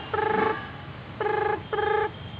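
A voice mimics a telephone ring with three tonal bursts, one longer followed by two shorter, sung in a steady buzzing pitch.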